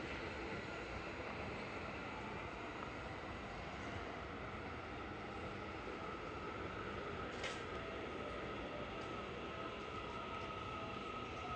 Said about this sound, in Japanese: 回送電車発車いたします。